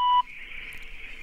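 A telephone line on a Turkish radio call-in show gives a short steady tone, then a softer sustained dial-line hum, clear and close with no talk over it.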